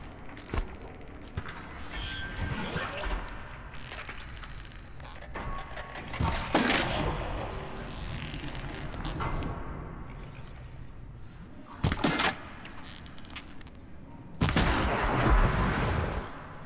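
Bow shots in the Horizon Zero Dawn video game: three sharp, loud releases stand out from a busy backdrop of game ambience and scattered thuds, with quieter activity filling the gaps between them.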